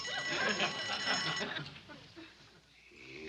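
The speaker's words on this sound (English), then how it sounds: "tinkling her little bell" A small hand bell tinkles in a sitcom household scene, bright ringing in the first second and a half that fades out, followed by quieter room sound.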